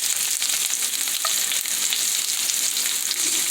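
Onions sizzle in hot grease, a dense, loud, steady frying hiss heard up close with no talking.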